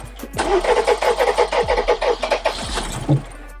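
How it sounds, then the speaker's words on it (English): Mercedes G-Wagen engine cranking over repeatedly in a steady rapid rhythm for about three seconds, loud and close, with a brief catch near the end and no speech. "I'm going to give it a crank and see where we stand"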